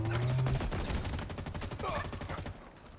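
Rapid bursts of gunfire from the multiplayer mode of the video game Halo Infinite, loud and dense at first, then easing off toward the end, with a brief voice mixed in.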